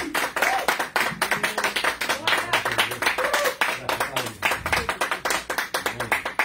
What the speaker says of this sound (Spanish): Si podemos darle un aplauso al Señor.